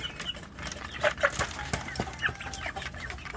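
Free-range village chicks, ayam kampung, being fed: a scatter of soft peeping and clucking calls, close by and fairly quiet over a low background, with no talk.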